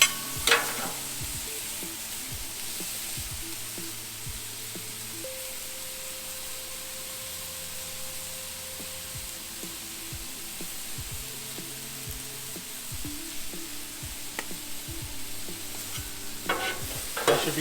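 Chicken sizzles steadily on a hot griddle for a Philly cheesesteak while sharp spatulas scrape and chop through it, giving irregular metallic taps and scrapes over a constant frying hiss, with no voices.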